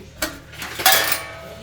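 Dishes and utensils clatter in a home kitchen being cleaned, with a few close, bright clinks and scrapes over a low background hum.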